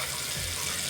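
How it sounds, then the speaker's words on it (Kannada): Water for yellow upma (rava) pours into a pan with a brief, steady rushing splash, close and fairly loud. "2 ವಾಟದ ನೀರು ಹಾಕ್ಬೇಕು."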